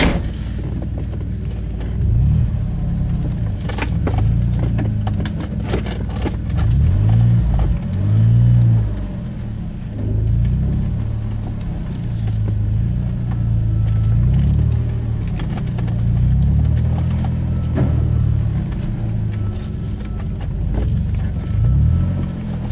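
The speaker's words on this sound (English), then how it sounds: "Cut the engine for a moment, Brian." An engine runs steadily for the whole stretch, a loud low rumble with repeated surges as it revs up and eases back, close by and with no talk over it.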